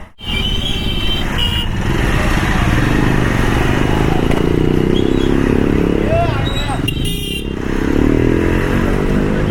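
A motorcycle engine drones steadily up close, with clatter and road noise around it and voices talking over the ride.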